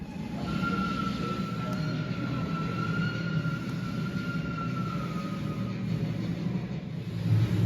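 Steady rumble of a train rolling along the tracks, played as exhibit sound in a railway museum tunnel, with a faint sustained squealing tone and clattering wheels, continuous and fairly loud.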